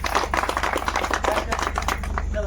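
An audience at a village school's golden jubilee celebration claps vigorously, a dense, continuous patter of many hands at close range that stays even throughout.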